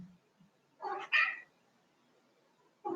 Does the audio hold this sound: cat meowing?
yes